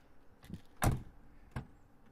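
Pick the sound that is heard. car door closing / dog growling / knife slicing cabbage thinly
car door closing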